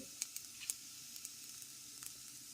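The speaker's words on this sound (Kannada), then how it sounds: "ಈಗ ಇದಕ್ಕೆ ಗುಂಟೂರು ಮೆಣಸಿನ್ಕಾಯಿ, ಬ್ಯಾಡಗಿ ಮೆಣಸಿನ್ಕಾಯಿ ಹಾಕ್ಕೊಂಡು ಹುರ್ಕೊಳ್ತೇನೆ" Guntur and Byadgi dried chillies frying in hot oil in a pan for hotel-style mutton sambar, a faint continuous hiss with a few sharp pops and crackles near the start.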